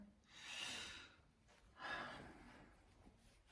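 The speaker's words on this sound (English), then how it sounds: "The dog just did a big snore." Two long, breathy snoring rasps close by, quiet and drawn out, with a brief pause between them.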